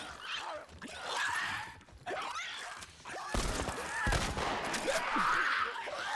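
Gunfire in The Last of Us Part 2 gameplay comes as short clustered bursts of shots among game sounds, with a voice talking over parts of it.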